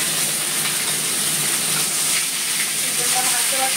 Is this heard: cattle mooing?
no